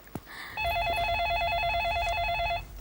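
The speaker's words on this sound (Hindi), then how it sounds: "रीचा फोन उठाना, रीचा फोन" Electronic telephone ringtone, a steady warbling ring that starts after a brief click and repeats continuously for about two seconds, loud and close with no talking over it.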